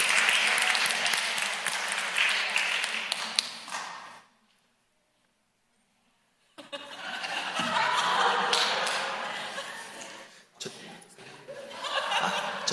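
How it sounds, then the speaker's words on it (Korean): A church congregation breaks into applause with some laughter, a crowd of clapping hands that cuts off into a couple of seconds of silence, then a second round of clapping and chuckling mixed with murmured talk. "여러분 위해서 한번 박수 한번 하겠습니다."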